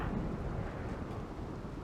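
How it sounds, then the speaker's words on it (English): A rainy thunderstorm rumbles in RimWorld as a steady, dense wash of wind and rain noise with low thunder-like rumble, continuous and moderately quiet throughout. "So the rainy thunderstorm is going to last for 6 days."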